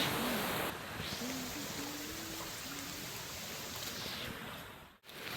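Monsoon stream water runs over rocks on a trail to Visapur Fort in the Sahyadri hills, a continuous broadband rush close by with a faint tonal hum partway through and a brief dropout near the end.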